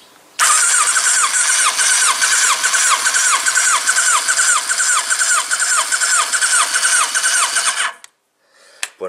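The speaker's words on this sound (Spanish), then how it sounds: "Aceleramos a tope y vamos a ver qué nos da." A Kawasaki ZZR 1100 motorcycle engine under restoration is turned over at full throttle during a compression test on its fourth cylinder. It gives a loud, close, steady rhythmic chugging for about eight seconds before stopping abruptly.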